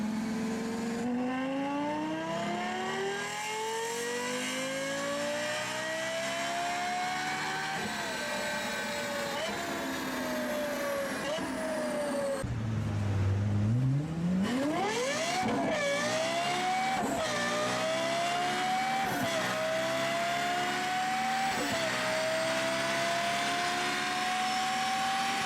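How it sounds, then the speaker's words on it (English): A Lexus LFA's engine rising and falling through rapid upshifts, a high, smooth wail that climbs, drops with each gear change and climbs again, steady and close with no talking. "enjoy this beautiful LFA sound for the next 10 seconds"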